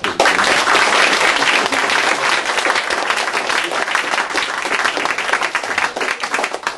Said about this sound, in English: We have a round of applause for our speakers.